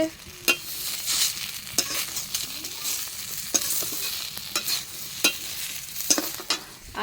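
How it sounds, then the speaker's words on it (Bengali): Eggplant slices frying in a pan, a constant loud sizzle broken by frequent sharp pops and spatters at irregular moments, with no voices. "এদিকে বেগুন ভাজা চলছে"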